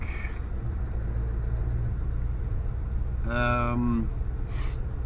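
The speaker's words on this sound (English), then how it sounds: "Stuck in traffic." Road traffic stuck in a jam with trucks nearby: steady low engine rumble throughout, then a brief tonal honk or brake squeal about two-thirds through and a short hiss near the end.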